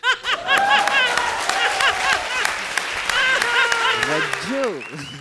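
Studio audience on a comedy show applauding, with scattered laughter and chuckles mixed in, while a voice talks over the clapping throughout.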